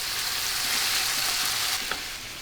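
Butter melting in a pan for shrimp Alfredo fettuccine, giving a steady, close, hissing sizzle with faint crackles throughout.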